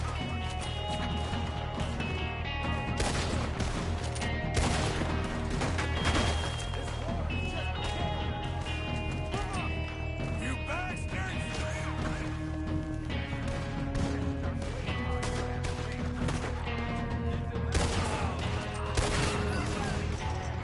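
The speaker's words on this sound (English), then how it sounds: "Who is shooting?" Gunfire rings out in the video game Red Dead Redemption 2, with scattered shots and bursts over a dense mix of game sound and music, and a voice talks over it.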